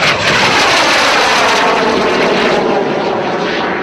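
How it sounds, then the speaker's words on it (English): A Jet Provost jet trainer passing at an airshow, a loud continuous engine roar and whine sweeping by close overhead, sustained without talk. "Early Jet Provosts were nicknamed by the RAF constant thrust variable noise."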